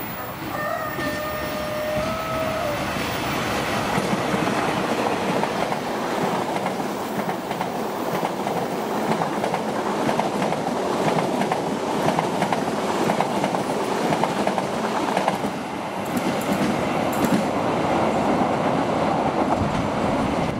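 The Argo Parahyangan passenger train rolls past close by in Bekasi Timur, a loud steady rumble with rhythmic clickety-clack of wheels on rail joints, opening with a brief high horn-like tone and continuing without let-up.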